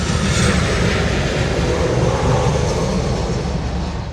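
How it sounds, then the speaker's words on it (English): Jet planes landing at LAX airport produce a loud, broad, continuous rumbling roar that holds steady throughout, then eases slightly toward the end, with no voices. "parked here watching planes land at LAX"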